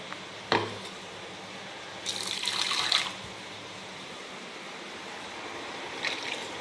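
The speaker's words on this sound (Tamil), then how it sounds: "இது கொஞ்சம் தண்ணி கலந்துக்கலாம்" Water splashes as it is poured into a pot of ground coconut for Chettinad chicken kurma in a short burst of about a second, with quiet kitchen background before and after.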